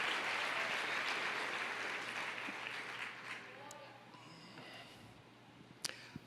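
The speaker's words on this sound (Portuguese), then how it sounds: "Aplauda o Senhor, por favor." A church congregation applauds the Lord during a sermon, a dense wash of clapping that gradually fades away and leaves a quieter room with faint murmurs and a couple of small knocks near the end.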